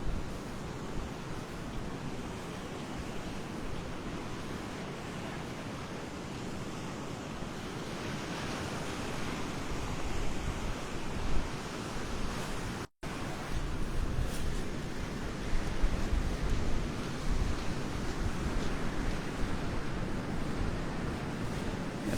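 Strong wind buffets the microphone on a beach at Delnor-Wiggins, roaring steadily over the wash of surf for the whole stretch, with one brief dropout midway.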